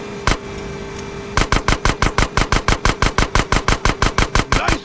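Gunfire in a Grand Theft Auto San Andreas shootout: a single loud shot, then a steady rapid string of about twenty evenly spaced close, sharp shots, no talk.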